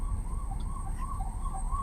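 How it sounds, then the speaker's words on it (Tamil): An ambulance siren wails continuously on a road in Kerala, a loud, close, rising and falling tone over steady traffic rumble. "மக்களே வந்துட்டு ஆம்புலன்ஸ் பக்கத்துல வந்து சோ ஒதுங்கிரும்."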